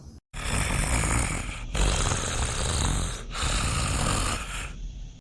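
A person snores loudly while asleep, three long rasping snores in steady succession separated by short breaths, close to the microphone and with no talk.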